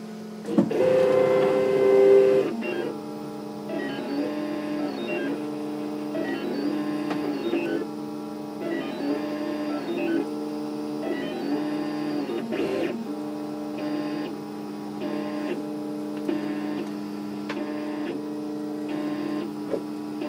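A scratch-built DIY 3D printer runs its first test print, its stepper motors whining in steady, repeating tonal patterns over a constant hum, close and alone with no talking.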